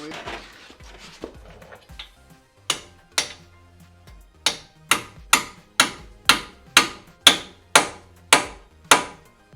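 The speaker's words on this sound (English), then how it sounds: "There's the hammer." Repeated sharp hammer strikes ring out in a steady rhythm while fitting coilovers on a 2000 Mustang GT, about a dozen loud blows, preceded by some softer rustling and a few quieter knocks.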